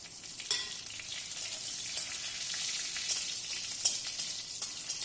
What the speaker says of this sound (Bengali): দিয়ে দিচ্ছি শুকনো লঙ্কা ফোড়ন দিয়ে দিচ্ছি দুটো তেজপাতা ফোড়ন